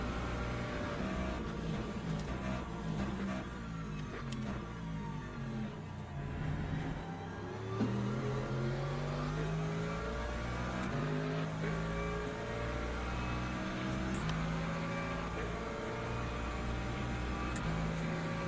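Race car engine in the sim racing game Le Mans Ultimate, droning steadily at high revs through a long straight with rising harmonic sweeps as it climbs through gears, loud and continuous with no voices.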